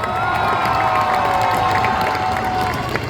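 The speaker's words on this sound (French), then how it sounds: "Je vous demande un tonnerre d'applaudissements," A festival crowd at a cosplay competition and parade cheers and applauds for a cosplayer, a loud continuous wash of shouts, whoops and clapping with a bright tonal squeal running through it.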